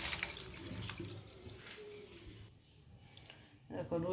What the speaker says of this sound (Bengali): কপিগুলো ধুয়ে নিই